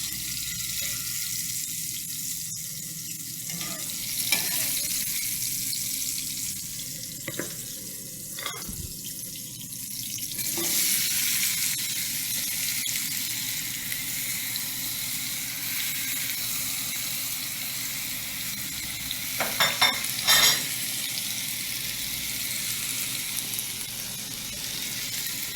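Banana and pear fry together in hot oil in a home kitchen, giving a steady, soft sizzle and hiss with a few louder pops and crackles over about 25 seconds.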